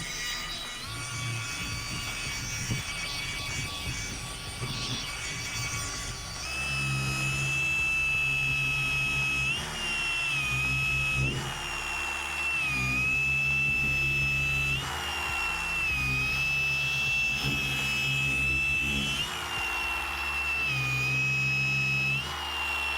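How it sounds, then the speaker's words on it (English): DIY Detail cordless 25mm stroke polisher working a panel with a foam pad and polish, a steady whining motor hum with a high tone, rising and dipping in rhythmic pulses as it moves across the surface. "let's see the 25mm stroke with just a gold standard pad and gold standard polish can do on this panel"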